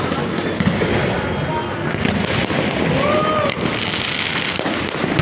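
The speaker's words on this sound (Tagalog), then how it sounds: "Grabe talaga putukan, oh." Fireworks burst continuously during a New Year celebration, a loud, dense crackling barrage of overlapping pops and bangs from many directions, with people talking amid the noise.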